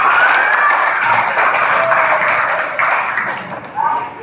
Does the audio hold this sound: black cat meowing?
no